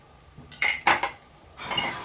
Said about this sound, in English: And then we'll mix all that together.